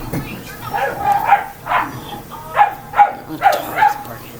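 Several dogs outside bark excitedly, heard from inside a house, with a string of about eight sharp, medium-pitched barks and yips coming in uneven bursts at moderate distance.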